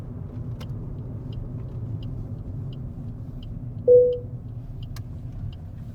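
Steady low rumble of a bus engine driving along a road, with a brief tonal squeal partway through, likely from brakes or the turn, and faint periodic ticking like an indicator.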